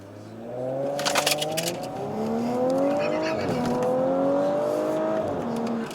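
A 2019 Audi S5 launches hard, its engine note climbing through gears with a clear shift dip, loud and steady from inside the cabin, with brief clicks near the start.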